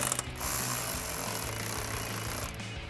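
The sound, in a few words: 8mm socket tightening cold air intake hose clamp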